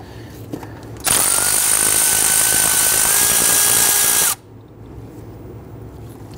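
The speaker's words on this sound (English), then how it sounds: "We're going to loosen and remove that using our 10 millimeter socket." A power tool with a 10 mm socket spins loose a bolt on a 2000-2006 Toyota Tundra 4.7L V8 during spark plug work, a loud steady whine lasting about three seconds, close by, then cutting off to quiet.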